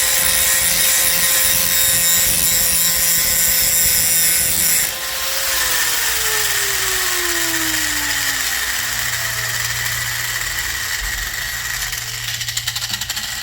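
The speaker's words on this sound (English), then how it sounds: "I'm gonna bring the grinder and see what happens" Angle grinder running hard against a cracked ceramic toilet tank, a loud continuous whine that drops in pitch under load and keeps grinding steadily close by.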